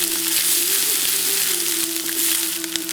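Onions frying in a pan for a goat blood fry, giving a steady, dense sizzle throughout, with a constant hum and light stirring clicks underneath.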